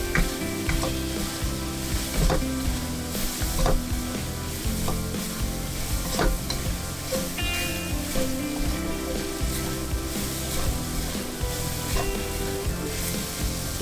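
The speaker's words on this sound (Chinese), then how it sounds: "大火翻炒30秒入味儿" Diced chicken stir-fried with green Sichuan peppercorns over high heat sizzles loudly in a wok, with repeated scraping and clanking of the spatula tossing the pieces in an uneven rhythm.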